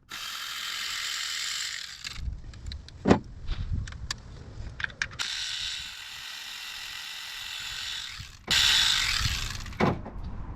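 Ratchet wrench clicking while removing spark plugs from a car engine, bursts of rapid pawl clicks separated by pauses and clanks, close and fairly loud with no talk.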